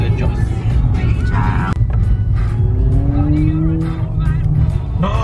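A McLaren car roars past on the road, engine noise rising and sweeping by loudly and close, with excited voices talking over it from inside another car.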